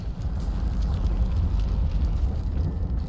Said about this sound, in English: I guess that's his death explosion mode.